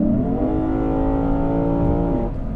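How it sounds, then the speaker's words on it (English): A Lexus IS 500 with a naturally aspirated V8 revs loud and close, a steady rising engine roar with strong layered harmonics that holds for a couple of seconds and then eases off slightly at the end. "the sound that this makes, the V8 naturally aspirated, it's intoxicating, it's incredible."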